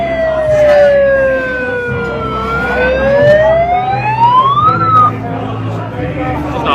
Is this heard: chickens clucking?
no